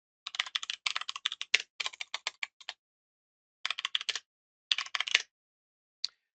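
Code is typed on a computer keyboard in quick clattering bursts of keystrokes, close and crisp, broken by pauses and a single final tap, with no talking.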